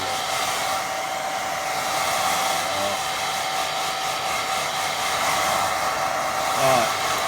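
A hair dryer on a low setting blows steadily to dry watercolour paint. It gives a constant close whooshing hum for the whole stretch, with faint background sounds.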